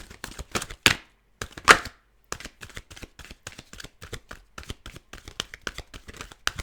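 A tarot deck being shuffled, with sharp riffling bursts of cards near 1 and 1.7 seconds followed by steady, rapid flicks and taps of cards in a close, quiet room.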